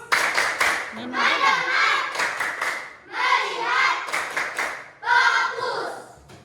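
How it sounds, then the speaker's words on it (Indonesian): Schoolchildren in a classroom perform a rhythmic focus clap, sharp patterned hand claps in quick groups alternating with the class chanting together, loud and close. "Tepuk fokus."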